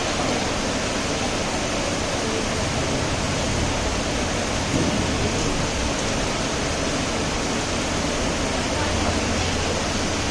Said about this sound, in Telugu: వర్షం పుల్లు పడుతుంది